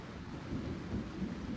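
Rain and a thunderstorm rumble in a low, steady wash with soft swells of distant thunder, no voices over it.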